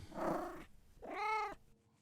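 A cat gives a breathy, rough vocalisation followed by a clear, drawn-out meow, close and fairly quiet, with no other sound.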